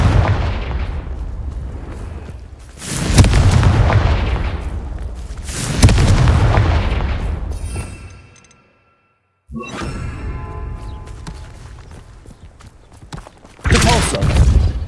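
Confringo blasting spells in Hogwarts Legacy erupt as a series of loud, booming explosions with whooshing tails, broken by a brief silent gap before more blasts roll in.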